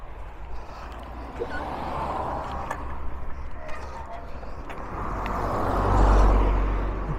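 Cars on a busy road near Mam Tor in the Peak District make a steady roadside rumble, with one vehicle swelling louder as it passes close toward the end.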